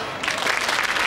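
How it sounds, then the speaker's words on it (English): An audience in a television comedy studio applauds loudly after a performance, a dense, steady burst of clapping heard alone. "the crowd is going mad"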